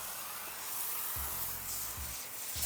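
Alkaline wheel cleaner diluted 10-to-1 sprayed from an IK eFoam Pro 2 sprayer onto a Bronco's wheels and tires, a continuous soft airy hiss with faint low rumbles underneath.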